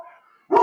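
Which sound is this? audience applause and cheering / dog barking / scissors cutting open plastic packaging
dog barking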